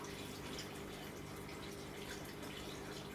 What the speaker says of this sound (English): I'm going to pour this slowly into the tank